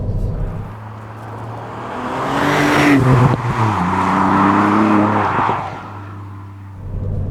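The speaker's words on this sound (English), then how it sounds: "Oh, it's that third gear out of a 30 limit international speed limit. The car just hauls you along." Engine note of a Ford Fiesta ST Mk8 with a Stage 1 remap pulling hard in third gear, a rising rasp that climbs in pitch, peaks mid-run with a gear change and settles back to a cruising hum.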